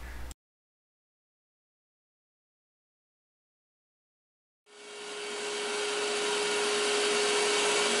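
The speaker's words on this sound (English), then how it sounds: "It's hooked up to a big 3-horsepower general dust collector." A large 3-horsepower General dust collector starts up in a woodshop after near silence and keeps running as a loud, steady broadband roar with a sustained hum, with no voices over it.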